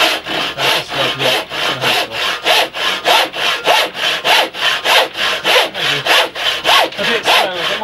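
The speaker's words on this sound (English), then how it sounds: "actually the jigsaw blade has a slight tendency to bend." Saw cutting dovetails in wood for a door frame during restoration of an 1875 log house, with steady, rhythmic back-and-forth strokes, loud and close, and no talking.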